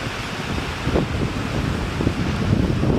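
Ocean waves on the beach at Pantai Asem Doyong in Pemalang, Central Java: a loud, continuous wash of surf mixed with heavy wind buffeting close to the microphone, without voices.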